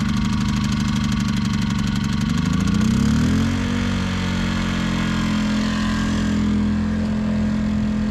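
Engine of a 1973 Ford F-350 Super Camper Special, untouched since 1998, runs loud and close with a steady throb that rises in pitch around the middle, then settles into an even idle.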